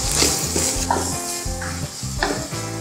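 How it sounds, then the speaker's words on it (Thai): Bacon, carrot and cabbage stir-fried for yakisoba sizzle in a pan, with rhythmic scraping strokes of stirring heard close up over the hiss. "แล้วก็ผัดให้ผักสลด"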